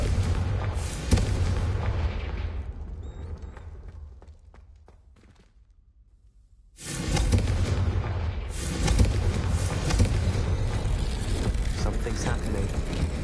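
Explosion from the Confringo spell in Hogwarts Legacy, a loud blast and crackling burst, followed by a near-silent gap, then a second roaring wave of blasts and rumble.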